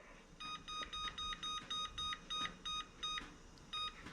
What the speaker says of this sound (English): Now we're going to set the timer.